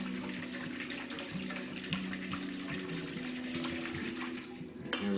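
Hot water is poured from a container into a dry homemade playdough mixture, making a continuous running, splashing gush that lasts throughout at a moderate level, with no talking.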